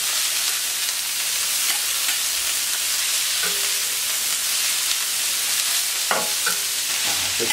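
Chinese cabbage stir-fries in a wok with a drizzle of wok oil, a steady loud hiss and sizzle with occasional scraping strokes of the utensil.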